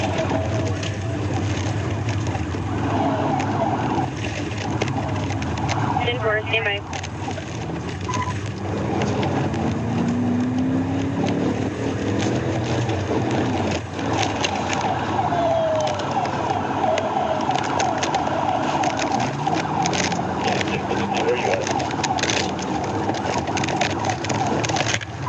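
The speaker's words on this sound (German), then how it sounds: "An einem Punkt schaltete der Beamte seine Sirenen aus und beendete die Verfolgung offiziell." A police car siren wails steadily through a motorcycle chase on busy city streets, loud and continuous over traffic noise with no talk.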